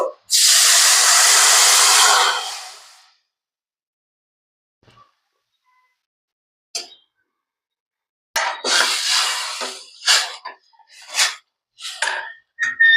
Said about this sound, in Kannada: ಬೆಳ್ಳುಳ್ಳಿ ಒಂದ್ ಸ್ವಲ್ಪ ಫ್ರೈ ಆದ ಬಳಕ ಈ ಮಾವಿನ ಹಣ್ಣು ಕುದ್ಸ್ಕೊಂಡಿರ್ತೇವಲ್ಲ ನಾವ ಅದ್ ನೀರ್ ಇರ್ತೈತ್ಲ ಅದನ್ನ ಈಗ ಇಲ್ಲಿ ಹಾಕೊಳ್ಳೋದನು